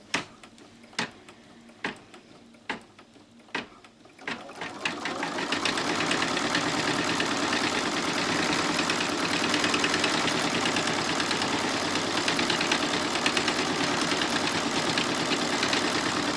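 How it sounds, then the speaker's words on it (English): Embroidery machine stitching a quilting design on a quilt block: a few separate clicks, then a steady, fast, loud mechanical whir that keeps running close by without pause. "So I'm going to continue to stitch the design."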